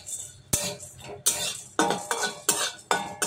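Dry chillies, black pepper and cumin being roasted in a dry pan, a utensil scraping and clinking against the metal in repeated sharp strokes, close and fairly quiet, with no talk.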